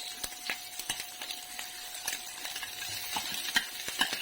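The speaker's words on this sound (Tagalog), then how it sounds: "lagay ko na itong isang sibuyas, luya, tsaka garlic, 4 cloves" Onion, ginger and garlic frying together in a pan for laing, with scattered sharp clinks and scrapes of a utensil stirring over a steady sizzle.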